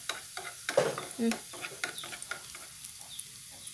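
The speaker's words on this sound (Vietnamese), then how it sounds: "Giờ hành của mình dầu thì nó đã sôi, Để vô thì hành của mình nó đã thơm rồi đó các bạn." Shallots frying in hot oil for a vegetarian Vietnamese dish, a busy close sizzle with stirring clatter and utensil scrapes, brief sharp clinks standing out partway through; no voices.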